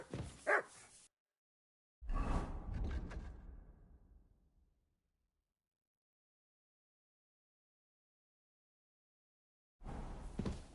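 A dog in a video game barks and yips in short bursts, a quick yap at the start, a louder bark with a fading tail, and another brief bark near the end, separated by silence.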